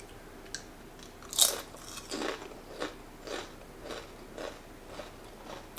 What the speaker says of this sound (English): Crunchy nachos.